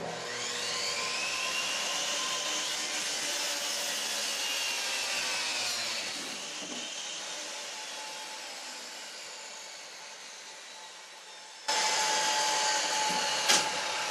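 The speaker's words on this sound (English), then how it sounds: "we got to cut this piece of plywood" A power saw cuts through a sheet of plywood, a loud, steady whine that slowly fades as the blade works through the board, then a sharp rise in pitch as it resumes near the end.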